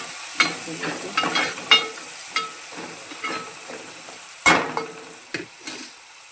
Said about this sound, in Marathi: जरा ढवळून घेऊया आपण।